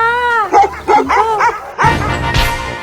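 Seven-year-old Border Collie that guards an airport runway in the United States, giving a string of loud close barks and yips with a whiny tone, then a rougher noisy burst at the end.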